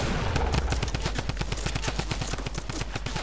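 Gunfire in a video game, billed as no-scope sniper shots: a loud, rapid and evenly spaced string of sharp shots running without pause over a constant low rumble.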